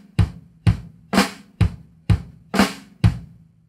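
A rock drum fill on a kit, built from seven sharp, evenly spaced hits combining flams with bass drum strokes, each with a quick decay. The hits are loud and close, with no talking.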